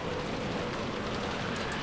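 Steady rain from the Umineko video game, a soft continuous hiss of falling drops with no talk over it, fairly quiet throughout.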